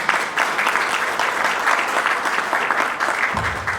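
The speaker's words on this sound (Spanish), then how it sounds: "recibamos como un fuerte aplauso a nuestro conferencista Alberto" A conference audience gives sustained, steady applause welcoming speaker Alberto Castillo at a talk on the Dominican health system, a loud, even wash of many hands clapping with no talk over it.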